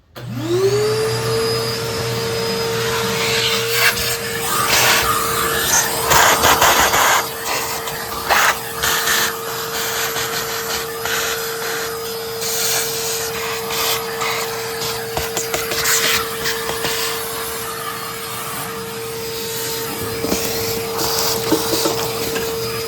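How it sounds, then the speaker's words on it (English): A vacuum cleaner spins up and runs steadily with a high whine, cleaning debris from around the spark plugs of a 2016 Mazda CX-5 engine, its tone shifting as it scrapes and sucks, no talk. "I'm going to try to clean all this out of here the best I can with the vacuum"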